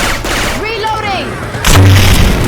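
Syphon Filter weapon gunfire sound effects in a Left 4 Dead 2 match, heard as a sharp whooshing shot followed by a loud, heavy burst of firing close by.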